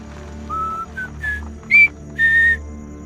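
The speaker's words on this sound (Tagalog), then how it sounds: "Ano yung kakaibang sipol na yun, ha?" A strange, eerie whistle sounds in a series of five short, pure tones that climb in pitch. The notes are clear and fairly loud against a quiet background.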